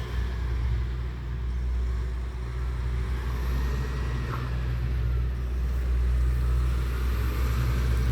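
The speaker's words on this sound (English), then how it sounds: "Of course, it would have to be a slow-moving, loud truck." A slow, loud truck passes on a town street, a heavy continuous low engine rumble holding steady and close throughout, with faint hiss from air brakes.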